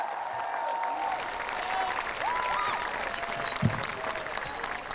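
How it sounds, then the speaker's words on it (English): A crowd claps for the North Quincy High School class of 2023 at their graduation ceremony, steady dense applause throughout with faint whistles and cheers mixed in. "Can we get a round of applause for our graduates"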